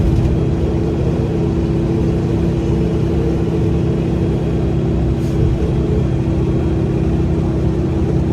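A 1995 Volkswagen Beetle cruises uphill at about 68 miles an hour, its engine and road noise forming a loud, steady drone inside the car with no speech.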